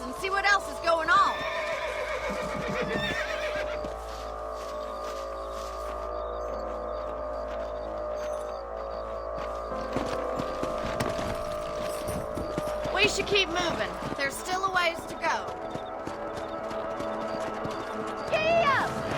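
Horses in the video game Red Dead Redemption: loud whinnies and snorts over a rhythmic clip-clop of hooves, with someone speaking over the riding and background game music.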